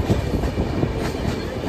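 A moving passenger train rumbles and clatters on its rails, a dense, loud, continuous rolling noise heard from inside the carriage.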